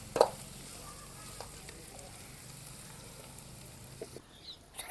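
Chicken leg pieces frying in a pan and being turned, a faint steady sizzle with a sharp clack near the start and a few soft scraping knocks later.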